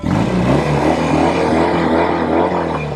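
Loud, close exhaust of a 1973 Norton 850 Commando Roadster motorcycle rumbles and revs continuously, a rich throaty drone whose pitch rises and falls slightly.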